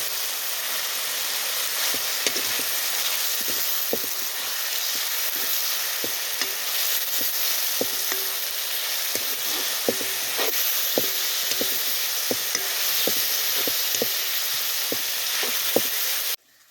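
Grated coconut dry-roasting in a pan until reddish, with a steady close hiss and repeated scraping stirs at an irregular rhythm throughout, cutting off abruptly at the end.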